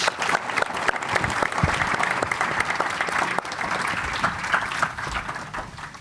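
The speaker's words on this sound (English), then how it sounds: "please give another applause for Eve and Olivier." Audience applause fills a studio presentation, a dense, steady wash of many hands clapping throughout with a slight fade near the end, no talk over it.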